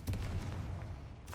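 A Confringo blasting spell goes off in the Hogwarts Legacy game inside a small mine, a short rumbling boom with a low, heavy body that fades, followed by a faint brighter burst.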